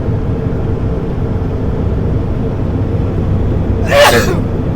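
A single sharp sneeze bursts out near the end, over a steady low rumble of background noise inside a truck on the Coquihalla Highway.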